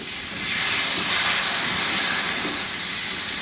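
Cut papaya and potato pieces fry in a pan over heat a little below medium, giving a steady, close, even sizzling hiss that holds throughout with no talking.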